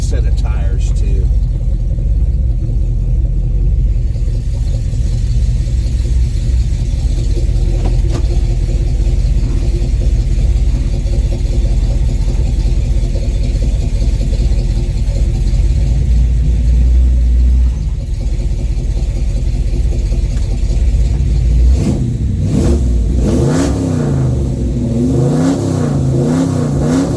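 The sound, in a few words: 1970 Chevelle engine cold start and ride along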